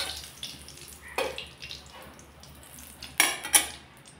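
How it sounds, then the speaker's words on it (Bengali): A spatula scrapes and clinks against a pan as fried eggs are lifted out, giving a few sharp metallic taps among soft kitchen handling noise, with no talking. "এখন উঠিয়ে দিচ্ছি ডিমগুলো।"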